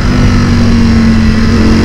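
A Ducati motorcycle engine drones loudly on the highway, a steady, close, continuous roar with a constant low hum and rushing wind, no speech.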